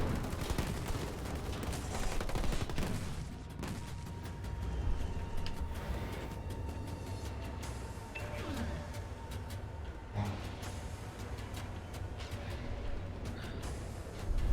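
Jackrabbit vehicles in Halo Wars 2 spraying rapid bullet fire, a steady stream of crackling shots within busy battle noise.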